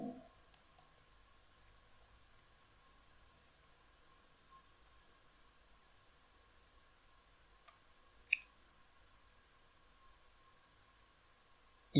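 A computer mouse clicks a few separate times in a quiet room, sharp isolated taps spaced several seconds apart over faint background hiss.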